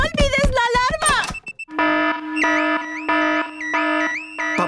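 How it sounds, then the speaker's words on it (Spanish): A car alarm in the animated Peppa Pig cartoon blares in a repeating wailing electronic pattern of loud pulsed tones after a brief burst of animated voices at the start. "Papá cerdito encendió la alarma. El ruido despertó a todo el vecindario."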